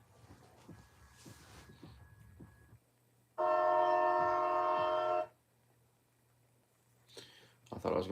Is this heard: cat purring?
no